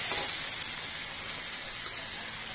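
Chilli idli pieces frying in tomato sauce in a pan, producing a constant bright hissing sizzle, close and even throughout with little variation, with no voices.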